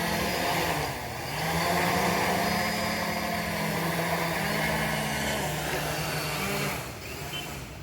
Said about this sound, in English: So here the motors and propellers are not able to provide enough thrust considering the weight and the dimensions of this frame.